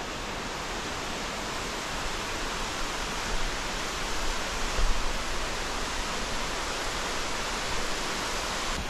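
Roaring rush of the Ilomska waterfall on Vlašić mountain in Bosnia and Herzegovina, a dense, constant broadband wash of falling water heard close and loud, unbroken throughout with no voices.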